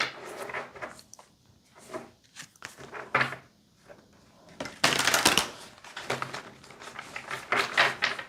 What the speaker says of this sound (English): I'm going to shuffle 3 times because I don't know why.